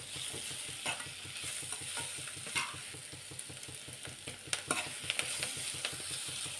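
Onions frying in a pan produce a steady, quiet sizzle with occasional scraping stirs and small clicks, close but faint, with no voices.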